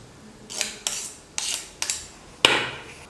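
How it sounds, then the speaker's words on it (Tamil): Drained cooked vermicelli goes into a cooking pot, with five sharp metallic clinks and scrapes of a utensil against the vessel at uneven intervals, close and clear in a quiet kitchen. "தண்ணி இல்லாமல் வடிகட்டி எடுத்துக்கிட்ட சேமியாவை இப்போ நான் பாத்திரத்தில் சேர்த்துடுறேன்"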